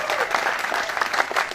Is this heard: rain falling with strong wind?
no